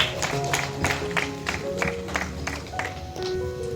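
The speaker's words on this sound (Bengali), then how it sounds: "সবাই করতালি দিয়ে সম্বর্ধনা দেবেন" An audience claps in applause at an official ceremony honouring a subdivisional officer, a steady, dense wash of hand claps with some overlapping voices and background music tones beneath.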